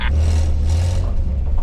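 A Nissan WD21 Pathfinder fitted with an idler arm brace rolls down a driveway, its engine giving a steady, close, low droning rumble with a faint whir and scrape.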